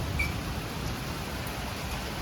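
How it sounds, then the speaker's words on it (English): Steady rain falls just after a tornado with no wind, a soft even hiss of raindrops on surfaces heard from outdoors, faint and continuous, with no voices. "It's just raining, no wind."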